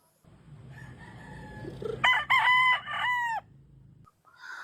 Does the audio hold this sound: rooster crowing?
yes